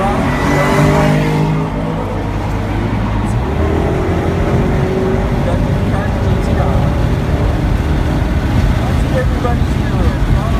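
A car accelerating on the Circuit of the Americas Formula One track, its engine droning loud and steady under constant throttle, with rising whine at the start and continuous road and wind roar throughout.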